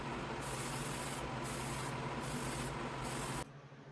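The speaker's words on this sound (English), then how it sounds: "For the clear coat, I used Tamiya's TS13 Clear Gloss. Several coats were applied" Tamiya TS13 clear gloss spray lacquer hisses from an aerosol can onto a 1970 Plymouth Superbird scale model. It is a loud, continuous close-up spray that pulses in short sweeps before cutting off abruptly.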